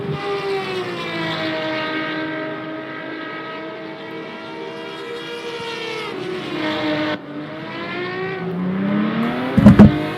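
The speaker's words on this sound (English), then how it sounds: "These cars are super loud and super gorgeous to listen to. 5-cylinder magic." Loud, high-revving five-cylinder race car engines roar past one after another, pitch sweeping as each passes, ending with a sharp clatter.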